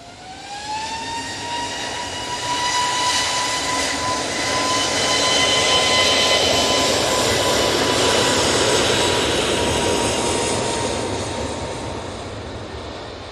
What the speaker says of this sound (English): A321neo now for EasyJet, spilling up.